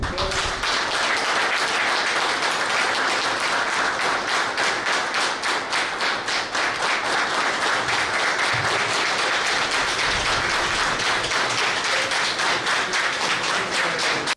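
Dense, sustained audience applause forms an ovation for a party president at a political gathering. Many hands clap steadily and loudly for the whole stretch without pause.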